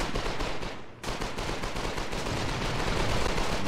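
Dense, continuous gunfire from many weapons in the war game Foxhole, a loud wall of overlapping shots and automatic fire with a brief dip near the start.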